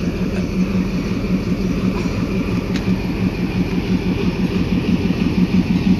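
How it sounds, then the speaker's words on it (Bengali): The Sirajganj Express, an intercity train, rumbles past nearby with a steady low clatter of wheels on rails and a continuous droning roar that holds level for several seconds, with no voices. "এই হলো ট্রেন"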